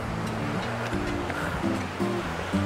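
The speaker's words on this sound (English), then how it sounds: "The river's still accompanying us all the way." A river flows beside a walking path on the Cumbria Way between Caldbeck and Carlisle, its steady rushing wash loud and continuous, with faint tonal sounds in the background.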